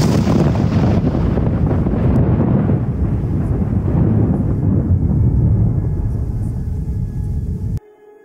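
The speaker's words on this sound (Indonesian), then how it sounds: "Suara petir membuat suasana di sekitar makin mencekam." Loud, sustained rolling thunder rumbles on for several seconds, then cuts off abruptly, leaving a faint hiss.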